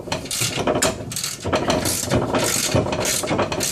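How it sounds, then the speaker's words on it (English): Ratchet tightening a coilover on a Honda Civic, rapid continuous clicking with rhythmic bursts as the handle swings back and forth, close and fairly loud. "you want to get a longer ratchet"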